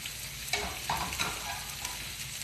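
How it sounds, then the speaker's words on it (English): Plant-based breakfast sausage sizzles steadily in a hot pan, a continuous crackling fry with a few louder pops and a scrape of a utensil, close and without talking. "they're definitely cooking. They're cooking like sausage"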